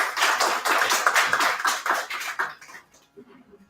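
Dense audience applause for a musician at a live performance event, steady and fairly loud for over two seconds, then thinning out to a few scattered claps before near silence.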